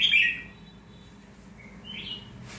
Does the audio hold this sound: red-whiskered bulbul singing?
yes